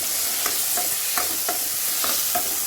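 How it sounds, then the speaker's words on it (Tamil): Small onions sauté in a pan for a Tamil turkey berry kuzhambu, a constant bright sizzle broken by several light scrapes and taps of a spoon stirring, close and steady, no speech. "சின்ன வெங்காயம் போட்டு வதக்கிக்கோங்க"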